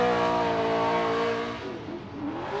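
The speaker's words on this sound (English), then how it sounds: "You can hear him keeping that exhaust note, consistent with that throttle, and Matt Kaufman rips through." A Formula Drift car's engine holds a loud, steady exhaust note under throttle during qualifying at Atlanta, then dips and wavers as it passes.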